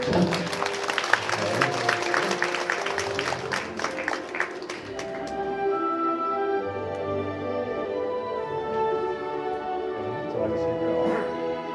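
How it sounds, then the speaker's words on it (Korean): Audience applause at a magician's stage show at a Songpa District Office event, a dense burst of clapping for the first few seconds that thins out, with music and a voice continuing underneath. "다시 한번 뜨거운 박수가 필요할 것 같습니다."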